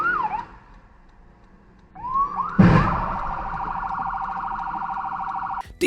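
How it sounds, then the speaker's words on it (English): An emergency vehicle siren wails loudly and steadily in traffic, rising after a short quiet stretch and holding a sustained tone near a collision with a rushing ambulance, with a sharp crash-like burst as it starts. "did this guy seriously crash into the rushing ambulance?"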